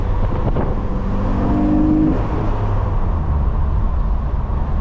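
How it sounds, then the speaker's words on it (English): A 2007 Saturn Sky with a manual gearbox accelerating, its engine intake roaring loud and close inside the cabin, a steady drone with tones rising briefly before settling. "I love intakes."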